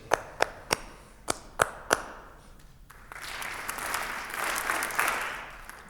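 Hands clap a steady rhythm of six sharp, evenly spaced claps, then an audience at a municipal band's Christmas concert answers with broad, swelling applause that fills the rest of the clip.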